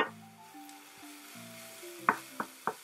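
Finely chopped ingredients for a chicken lettuce wrap are stirred in a pan, with a soft sizzle and three distinct spatula scrapes near the end over a steady tonal background.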